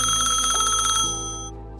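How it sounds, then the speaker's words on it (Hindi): A mobile phone ringtone chirps in a steady, bright electronic pattern, close and alone with no voices, then cuts off abruptly just before the end. "तभी अचानक आरती का फोन बज उठा।"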